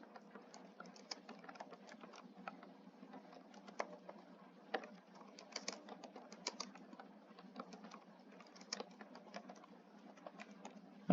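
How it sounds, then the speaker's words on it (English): Computer keyboard typing, a quiet, dense run of irregular key clicks with occasional sharper taps, continuing steadily throughout with no talking. "let's go back in here and type in some more words."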